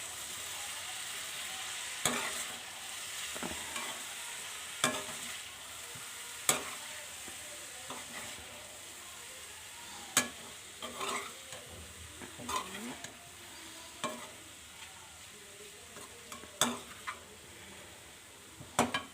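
A spatula stirs and mixes food in a frying pan over a steady sizzle, with scraping strokes and clinks against the pan recurring every second or two, close and moderately loud, with no talking.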